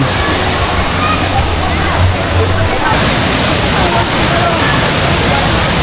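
Taytay Falls in Majayjay, Laguna, a waterfall fed by clear Mount Banahaw water, rushes as a steady broadband roar close by, with a faint low hum in the first half.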